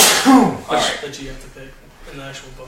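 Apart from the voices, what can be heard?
person sneezing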